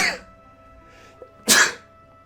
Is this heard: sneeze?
yes